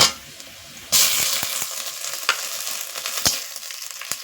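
Browned onion and ginger frying with turmeric and spices in a pan, a loud, close, continuous sizzle that jumps up sharply as ingredients hit the oil, with scattered stirring scrapes and clicks and no talk.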